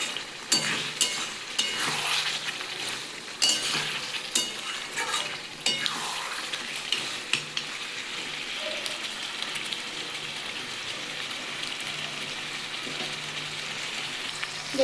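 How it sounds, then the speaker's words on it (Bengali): Goat mutton and potatoes fry under a lid with a steady, close sizzle. Frequent metallic stirring scrapes and knocks come in the first half, then the pan settles into a continuous hiss that runs to the end. "আমি চাপা দিয়ে কষাচ্ছি মাংসটা"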